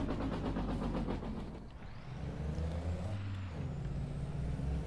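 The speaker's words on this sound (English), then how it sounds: "Jake brakes, actually." A heavy truck in Farming Simulator 22 rumbles loudly as its engine brake kicks in, with a deep rattling drone that drops in pitch and then settles into a steady low growl.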